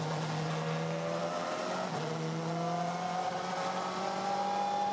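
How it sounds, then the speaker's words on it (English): A Honda WTCC touring car on the formation lap at the Hungaroring in 2015, its engine note whining and stepping through gear changes in a continuous, moderately loud drone with no voices. "Let's get a feeling for it from the local hero, Norbert Mikulich in his Honda on the formation lap."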